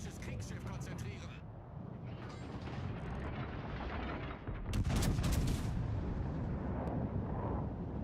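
Warship guns fire in a naval video game, with heavy booming blasts and rumbling that swell louder midway, layered over ongoing game noise and mechanical clatter.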